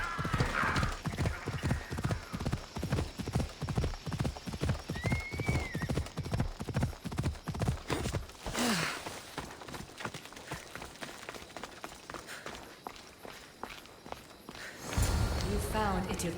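Horse hooves in Assassin's Creed, a rapid steady clip-clop of galloping for about eight seconds with a brief whinny, then trailing off beneath a loud whoosh.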